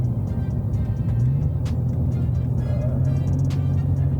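Jeep Cherokee XJ fitted with a Borla exhaust, running with a steady, deep, throaty idle rumble that holds evenly throughout, close up and with no one talking.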